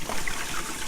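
Plain tap water pours briefly into a raw turkey being rinsed without soap, a short close trickling and splashing rush of liquid with no talking.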